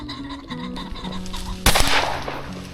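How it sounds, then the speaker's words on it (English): Several pheasants burst up and call with raspy, clucking cries during a field hunt, followed by a sudden loud blast of noise, all close and busy. "That was a bunch of freaking birds."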